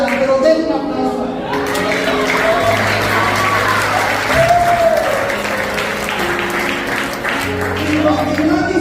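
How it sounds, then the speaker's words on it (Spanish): A congregation at a Sunday Bible school claps loudly and continuously, mixed with voices and sustained musical tones. "den un aplauso"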